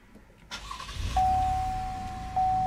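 A 2017 Cadillac XT5's 3.6-liter V6 engine cranks and fires up by push-button start, settling into a steady idle rumble with a faint electronic chime tone over it.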